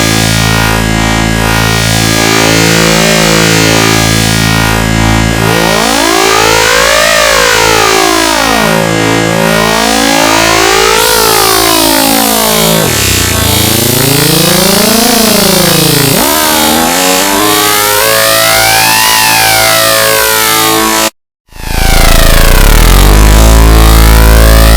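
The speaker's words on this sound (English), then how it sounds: "You can create more sweeping sounds simply by increasing that range." A loud Native Instruments synthesizer tone sweeps up and down in repeated wavering LFO arcs, with a rhythmic pulsing underneath, briefly cutting out near the end before resuming.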